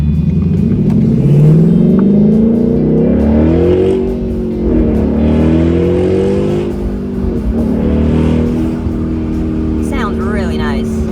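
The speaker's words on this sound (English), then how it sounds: "I'm loving the exhaust. It's just, man, it's a good sound." A 2017 Ford Mustang GT 5.0L Fastback engine revs up and accelerates with a deep, rising exhaust roar, easing off and climbing again; a person talks briefly near the end.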